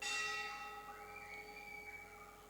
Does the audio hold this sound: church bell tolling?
yes